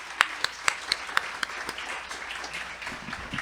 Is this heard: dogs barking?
no